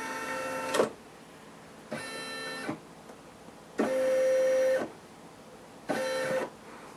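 An SE400 embroidery machine stitches a knit beanie in four separate bursts of mechanical whirring and tapping, each lasting under a second to a full second, with quiet pauses between them, heard up close.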